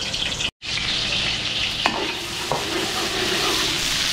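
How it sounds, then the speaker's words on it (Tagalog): Garlic and onion frying in hot oil in a home kitchen pan, a steady close sizzle running throughout, with a brief dropout near the start and a couple of light utensil clicks. "Si Mabel, painitin muna natin itong kawali, tapos bawang sibuyas na to."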